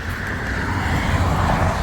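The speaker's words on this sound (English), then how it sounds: "lots of traffic on this highway" Loud, continuous rush of cars and trucks on a divided highway beside the Appalachian Trail, close to the listener, with tire and engine noise swelling as vehicles pass and no voices.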